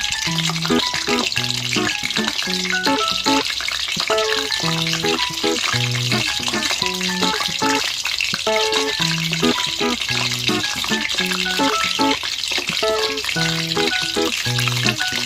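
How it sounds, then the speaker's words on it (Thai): Pork skin deep-frying in hot oil for Thai crispy pork, a constant dense bubbling hiss running unbroken beneath melodic background music. "จากนั้นเราก็ทอดให้แค่พอเหลืองอย่างเดียว"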